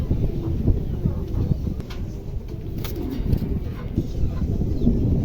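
A pair of Mundi pigeons coos softly and steadily against a constant low rumble of background noise, close by, with a voice faintly present.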